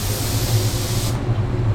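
A Walcom Ego Mini airbrush spraying at 33 psi gives a close, steady airy hiss that cuts off abruptly partway through, leaving a low residual hum.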